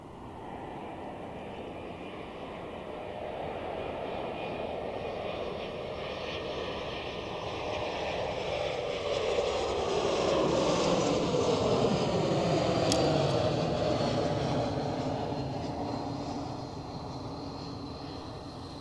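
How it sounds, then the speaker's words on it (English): Airbus A220 arriving from Munich and landing at Zurich Airport: a sustained jet engine roar grows slowly louder and shifts in pitch as the aircraft passes close by, with no voices. "Oh, that was a butter smooth touchdown there."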